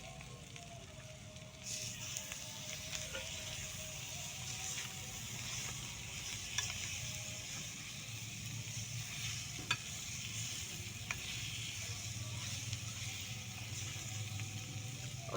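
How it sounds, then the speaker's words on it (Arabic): Leftover boiled meat stirred and fried with mashed chili in a pan, a steady sizzle with occasional scraping clicks of a spoon, moderately quiet and continuous, no talking. "ونقلب مع بعض"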